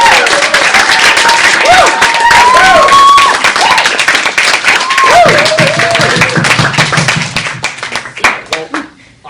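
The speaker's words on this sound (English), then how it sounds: "It's just whooping and cheering and clapping and ovations." An audience whoops, cheers and claps loudly to welcome a speaker at a university talk, dense sustained applause with high whistles and shouts that slowly thins toward the end.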